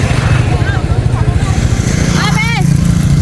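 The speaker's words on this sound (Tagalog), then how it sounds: "May tricycle, ay may motor." A tricycle motorcycle engine runs steadily and close by throughout, a continuous low drone under the chatter of nearby voices, with a brief higher whistle-like sweep near the end.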